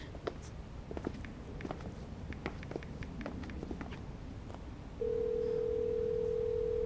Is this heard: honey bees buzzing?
no